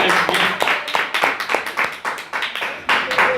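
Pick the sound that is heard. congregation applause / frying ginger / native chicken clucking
congregation applause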